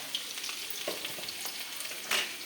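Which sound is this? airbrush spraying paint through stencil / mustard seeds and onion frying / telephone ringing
mustard seeds and onion frying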